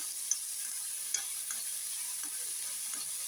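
Vegetables sautéing lightly with salt in a pan while puff filling is made, a steady soft sizzle with a few faint stirring clicks, no talking.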